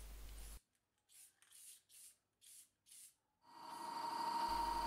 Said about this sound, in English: As I cut out the individual pieces, I give them a spray with some clear coat.